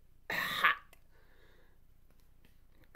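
A voice makes a short, raspy hacking cough imitating a cat bringing up a hairball, followed by faint breathing.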